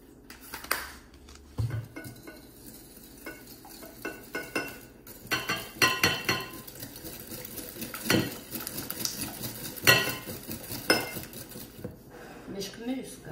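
Sugar and a pinch of salt are mixed for bread pudding, heard as a series of close, irregular clinks and scrapes of a utensil against a bowl, with music playing faintly in the background.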